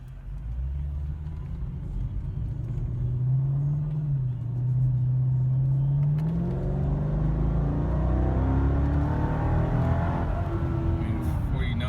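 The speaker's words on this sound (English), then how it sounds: "we'll just do a slight heavy acceleration, nothing crazy" Mercedes E55 AMG pulling through a moderately heavy acceleration, a deep engine drone rising steadily in pitch and strength, heard from inside the cabin with no one talking.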